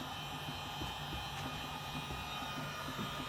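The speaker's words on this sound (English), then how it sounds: "And then I'm gonna be heating it up with my heat gun." A heat gun warms plier handles with a steady, moderately faint blowing roar and hiss that holds without a break throughout.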